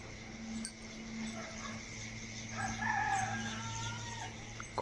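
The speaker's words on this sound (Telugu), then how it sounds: "కోళ్ళు" Chickens cluck and a rooster crows faintly in the distance over a steady low hum, with no talking.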